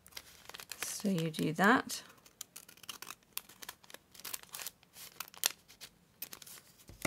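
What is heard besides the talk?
scissors cutting a seed pack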